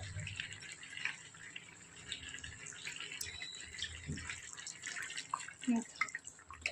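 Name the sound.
water being poured into cooking chicken curry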